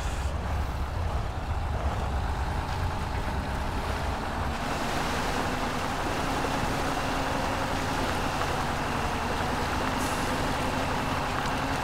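Truck engine straining through mud in the video game Spintires: MudRunner, a steady low rumbling drone under broad wind-like noise, continuous and without speech.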